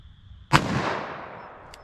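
A single sharp gunshot from a DoubleTap Equalizer fired into ballistic gel, one loud crack followed by a decaying outdoor echo, with a faint click near the end.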